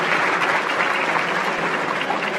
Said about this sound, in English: I always enjoy getting the applause before I speak